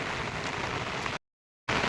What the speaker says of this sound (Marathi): हा बघा, पाऊस खूप पडतो आहे.